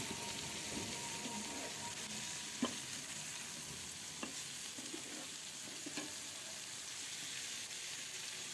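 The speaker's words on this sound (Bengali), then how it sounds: "সিম এরকম করে ভাজি করলাম" Flat beans frying in a pan with a steady close hiss and crackle, a few sharp scrapes and clacks from stirring breaking through at intervals.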